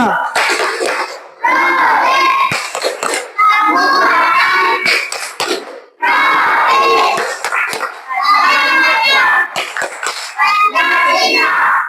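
A classroom of children on their feet chanting and clapping in unison through the Tepuk P5 routine, loud and close, in repeated rhythmic bursts with short pauses between phrases.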